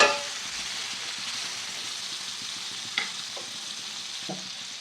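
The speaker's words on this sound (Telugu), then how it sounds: "ఇవన్నిటిని బాగా మిక్స్ చేసేద్దాము. ఇంకా బాగా ఫ్రై అయిపోవాలండి." Bitter gourd fries in a pan with a soft continuous sizzle while a spatula stirs it, scraping and knocking a few times; a faint horn sounds somewhere in the background.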